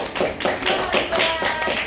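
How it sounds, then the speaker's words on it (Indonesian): Classroom clapping for a student after a presentation, a handful of close, distinct rhythmic claps in quick pulses, few hands rather than a large crowd. "tepuk tangan buat Abiban"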